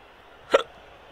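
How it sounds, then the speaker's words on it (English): One sharp, short hiccup, close and isolated against near silence. "Got the hiccup."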